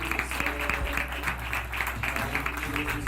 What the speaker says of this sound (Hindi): हम परमेश्वर के दास अभिषेक पास्टर पीजे स्टीफन पॉल जी का स्वागत करेंगे तालियां बजाते हुए।